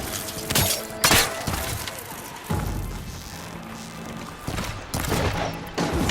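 Gunfire and impacts in the Horizon Forbidden West video game: a chaotic run of sharp bursts, thuds and shattering crashes coming loud in waves, with battle noise between them.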